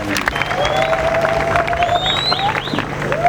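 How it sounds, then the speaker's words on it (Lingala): A congregation at a religious gathering applauds and cheers loudly, a continuous dense wash of clapping and shouting voices with whistles rising through it. "Vous pouvez acclamer très fort pour la parole."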